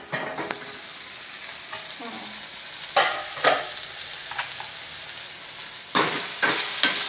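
Half-fried vegetables being stirred in a pan on a gas stove after the lid comes off: scraping spatula strokes over a low, steady sizzle, with a few sharper clusters of strokes, close and clear with no talking.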